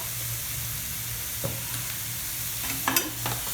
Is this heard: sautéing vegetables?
yes